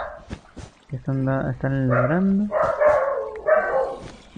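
Several pet dogs at home bark and whine excitedly in loud, close bursts, their yelps and whimpers mixed with a person talking over them.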